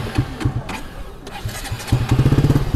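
A motorbike engine turns over and catches, settling into a steady, close idle with rhythmic pulsing after a few uneven bursts, with no talk.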